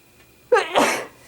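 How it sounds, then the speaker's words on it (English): A single sharp human sneeze, close and loud, with a quick inhaled catch followed by a breathy burst, alone in a quiet room. "I'm about to sneeze."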